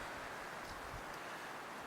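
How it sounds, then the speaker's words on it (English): Strong wind blows steadily outdoors at a car camping spot, a constant broad rushing roar with no pauses, close and fairly loud. "But it is really windy."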